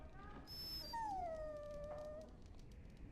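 Dog in the video game Dragon Age: Origins gives a high, drawn-out whimpering whine that slides downward in pitch, heard alone over a quiet background.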